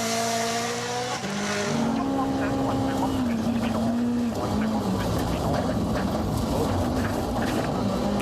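A Rally Latvia rally car revs hard and shifts up through the gears, each rising engine note dropping at the change before climbing again, loud and close, then blending into a rougher roar; voices talk over it.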